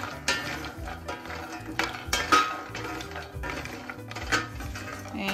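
Cashews being dry-roasted in a pan on medium flame, the nuts clattering and scraping against the metal as they are stirred, an uneven run of close clinks and rattles with no talk.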